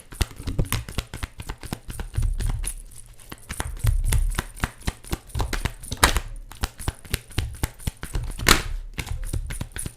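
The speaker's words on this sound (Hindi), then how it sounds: "कोई नहीं, शफल करते हैं, आना होगा वो आएगा।" Tarot cards shuffled by hand in a quiet room, a fast run of soft papery clicks and riffles repeating steadily throughout, close and fairly faint, with no voices.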